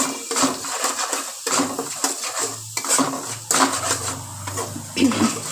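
Spices with salt and turmeric stirred in a pan, a utensil scraping and clattering against the metal in repeated strokes, close by, with a voice faintly present.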